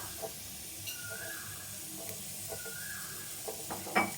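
Grated coconut fries in a pan with cloves, cinnamon and cardamom, a steady soft sizzle with the light scrape and tap of a spoon stirring now and then.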